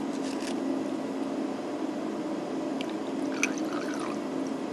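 15% acetic acid is poured into ethanol in a lab, a soft, steady liquid trickle and hiss that runs continuously at close range.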